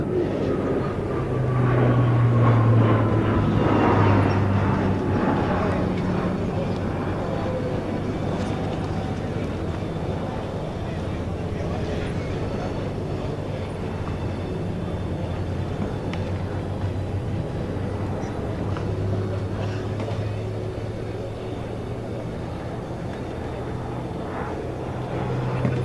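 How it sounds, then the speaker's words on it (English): Jet engines roar steadily at full throttle as a military aircraft pulls through a loop at an airshow during NATO Days, a loud continuous rumble that swells early and holds, with a distant crowd wash beneath. "The engines roar as the power manager slams the throttle forward."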